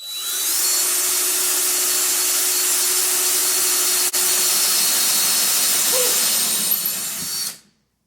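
An electric drill bores into a wooden cabinet, running loud and continuous at high speed for about seven seconds before cutting off abruptly.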